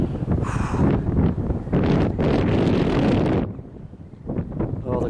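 Strong wind buffeting the microphone outdoors on open ground with gorse bushes, loud roaring bursts that surge and drop, with someone talking and breathing in between gusts.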